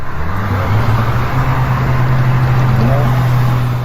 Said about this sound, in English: This WRX sounded amazing.